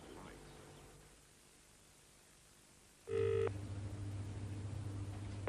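A telephone rings unanswered on the other end of the line: a steady, repeating ring tone that cuts in abruptly after a few seconds of quiet line hiss and carries on, close and fairly loud.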